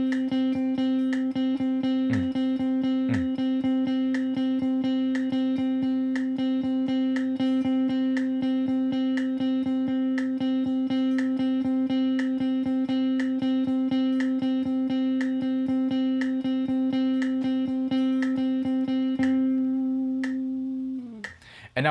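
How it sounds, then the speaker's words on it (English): An instrument holds a sustained tone against a steady, regular metronome click, the ticks running evenly through the whole passage with a couple of brief plucked notes near the start, the sound fading out at the end. "this might be the first time that you've actually played every time except for when the metronome is clicking"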